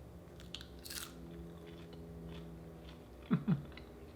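Biting and crunching into a homemade keto cheese crisp: two sharp, close crunches near the end, following a quiet stretch with a few faint crackles.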